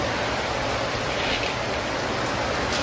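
Heavy rain pours steadily in a continuous, even hiss, with no speech.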